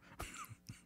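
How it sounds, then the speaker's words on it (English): A single short cough or throat-clear aimed into a microphone, close and dry, followed by a second brief burst at the very end. "just cough into the mic."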